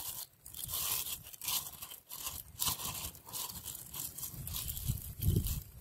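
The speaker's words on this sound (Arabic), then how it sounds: "هذا عندنا كيس نايلون، ناخذها بهالشكل هذا." A nylon bag is handled close up, crinkling, rustling and scraping in irregular bursts with brief pauses and no talk.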